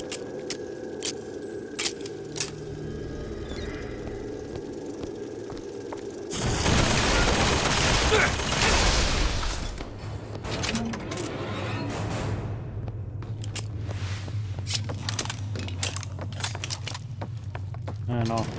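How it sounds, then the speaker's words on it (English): Gunfire destroying turrets in the video game Bioshock Infinite, a dense burst of shots and explosive noise for a few seconds amid game ambience, with scattered clanks and mechanical hum afterward. "Might as well just destroy these turrets."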